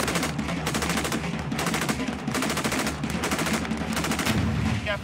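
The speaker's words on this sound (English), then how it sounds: "the fire support will all open up. That's the cue, and in they go with tracer bullets flying just above their heads" Military fire support opens up in a sustained burst of automatic gunfire with tracer rounds, loud and continuous, rapid rhythmic volleys overlapping throughout with no pauses.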